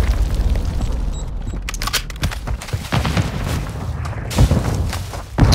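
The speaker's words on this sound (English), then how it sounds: "Friendly cruise missile approaching target." Cruise missile strike in Modern Warfare 2, a series of loud booming blasts and crackling impacts close by, with rumbling bursts rising and falling over several seconds.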